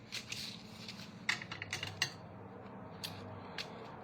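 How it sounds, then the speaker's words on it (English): Several crisp snips of scissors cutting paper, close and sharp, irregularly spaced over a soft background hiss. "I'm just going to snip off that excess"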